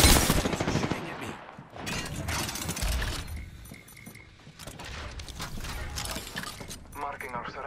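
Enemy gunfire in the video game Apex Legends crackles in rapid bursts, with mechanical clicks and game character voices between the shots.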